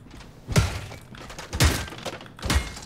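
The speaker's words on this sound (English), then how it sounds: "You just like hit a prop and it explodes into a bloody mess." Furniture props being smashed and bursting apart in the video game Perfect Vermin, with three separate sharp crunching impacts about a second apart, each followed by a brief messy splatter.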